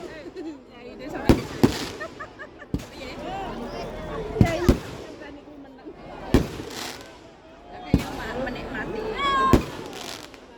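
Fireworks burst in a string of sharp booms and crackling pops, some near and loud, others softer, spaced a second or two apart with faint crowd voices between.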